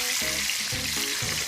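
A sea bream fillet sears skin-side down in a hot pan, giving a dense, continuous close sizzle with faint rhythmic low pulses underneath and no speech.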